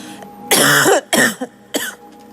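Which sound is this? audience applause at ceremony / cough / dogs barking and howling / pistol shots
cough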